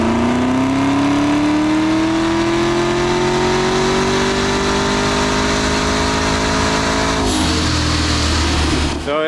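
A muscle car engine on a mobile dyno revs up in a long, loud, steadily rising pull, its pitch climbing smoothly before a sudden cut drops it back to a lower idle rumble, with no voices over it.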